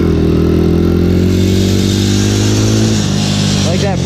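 A Honda motorcycle rides through the rain with a loud, steady engine drone that shifts pitch near the end, heard close up from the rider's position over constant wind and road noise.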